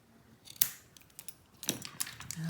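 Small scissors snip a cotton wick on a Serpent Elevate RTA: two sharp, close, quiet cuts about a second apart, surrounded by light handling clicks in an otherwise quiet room.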